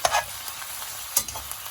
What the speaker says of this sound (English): we're going to have to start stirring this gently because this will have to be cooking